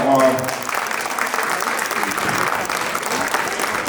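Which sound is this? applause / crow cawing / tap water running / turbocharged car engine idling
applause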